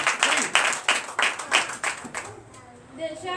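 A church congregation at a Sunday worship service in Comè, Benin, claps in a steady, rhythmic beat for about two seconds, then the clapping thins and fades into quieter murmuring.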